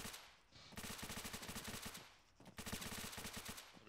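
Machine gun in the Arma 3 video game firing two long, rapid automatic bursts separated by a short pause, loud and close with a dense rattling rhythm and no voices.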